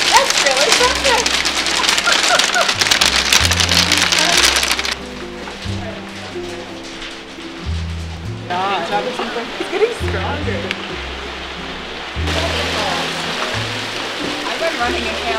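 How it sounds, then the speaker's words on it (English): Hail pelts down in a sudden storm, heard from indoors as a dense, steady hiss of ice striking surfaces, with low musical tones and people talking underneath throughout. "Started hailing all of a sudden"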